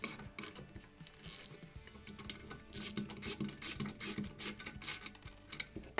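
Screws are turned out against a plastic nut held in place by a finger, giving close, quiet bursts of ratcheting clicks and scraping grinds in an uneven rhythm with short pauses.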